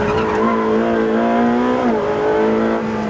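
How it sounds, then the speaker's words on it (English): Ferrari 458 Speciale, a 600-horsepower mid-engine car, power sliding on track with its engine roaring loudly and steadily while tyres squeal, the pitch holding high then dipping briefly before recovering. "You don't expect to be able to do big power slides in a 600 horsepower mid-engine Ferrari, but you can with this one."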